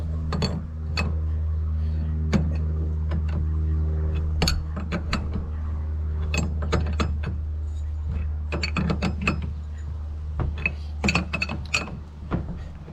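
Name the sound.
pulley pressing onto Ford F350 power steering pump shaft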